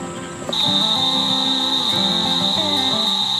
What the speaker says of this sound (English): Cicadas, frogs, hardly hear ourselves think